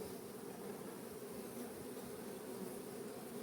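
Honey bees at an open beehive hum in a dense, continuous drone, steady and close throughout with no voices.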